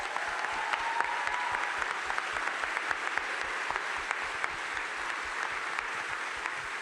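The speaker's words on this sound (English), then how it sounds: "Please give them a round of applause." A crowd at the NASA announcement of the Artemis II crew gives a sustained round of applause, with dense, even clapping that continues steadily throughout.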